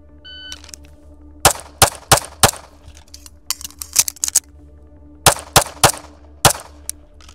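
An Atlas EOS rifle fires a series of sharp, loud shots at targets during testing, in irregular bursts of two to four rapid cracks with short pauses between them, with no talking.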